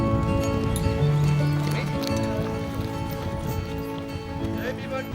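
A horse breaks into a gallop on a riding track at an equestrian refuge, its hoofbeats and movement steady and close, with a rider's voice giving instructions over it.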